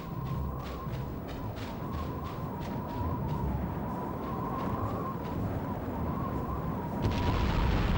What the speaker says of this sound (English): we retreat to a safe distance before setting off C4